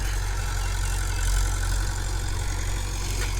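A 2000-model Mahindra 575 tractor engine runs steadily at about 1500 RPM, a constant loud low diesel drone with even rumble and no break across the whole stretch.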